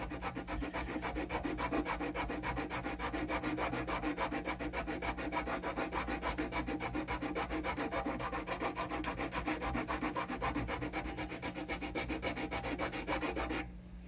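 Eighty-grit sandpaper worked over the wood of a vintage Gibson LG-1 acoustic guitar, a close, steady, rapid back-and-forth rasping that runs continuously for the whole stretch and stops abruptly at the end, with no voices.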